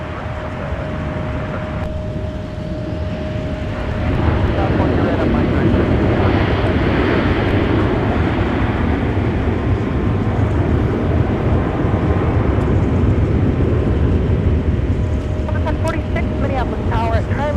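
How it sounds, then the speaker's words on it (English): A Delta Airbus A321 arriving at Minneapolis–St. Paul airport in winter, a loud, steady jet roar that swells and holds with heavy wind buffeting the microphone and a faint tone at the start. "It's another Delta aircraft, an A321."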